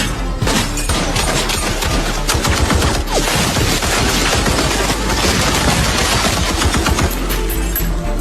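Rapid bursts of film gunfire fired at a door crackle nonstop, dense and loud, like a sustained fusillade with occasional heavier cracks and crashes mixed in.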